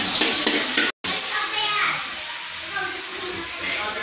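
Garlic hits hot oil in a frying pan, giving a steady, close sizzle with a brief cutout and some stirring scrapes, continuing at moderate loudness throughout.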